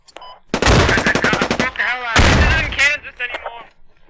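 Rapid bursts of machine gun fire in the video game Squad crackle loudly in quick repeated volleys, mixed with a voice shouting over the battle noise.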